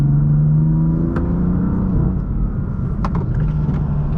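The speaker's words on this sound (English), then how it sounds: "give you some exhaust sound here" A BMW F80/F82 M3/M4 with its stock exhaust and valves open gives a fairly loud, close engine note that climbs and falls through revs, with a few sharp mechanical clicks, and nobody talks.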